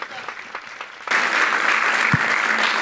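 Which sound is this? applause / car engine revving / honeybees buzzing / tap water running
applause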